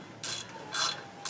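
Short ratchet wrench bursts snugging down the bolts on an aftermarket Ruff Stuff differential cover, three quick close clicking pulls separated by brief pauses.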